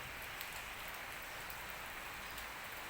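Steady rain falls softly in Nakhon Ratchasima, Thailand, a continuous fine hiss of drops on surfaces, quiet and even with no other sounds.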